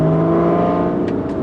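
An Aston Martin V12 Vanquish S in a tunnel revs hard as the throttle is pressed, a loud, close, sustained engine tone with strong harmonics rising in pitch, no voices.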